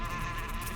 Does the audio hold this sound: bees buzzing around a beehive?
yes